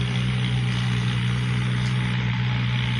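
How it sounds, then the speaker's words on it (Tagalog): Kubota tractor engine plowing a field, a steady loud low rumble with a continuous droning hum throughout, close and unbroken. "Kubota, lakas ng kubota."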